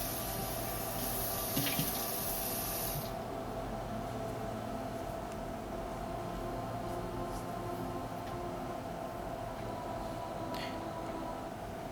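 A bathroom tap runs steadily as water splashes during a face wash at bedtime, a constant close hiss with a few faint knocks and no talking.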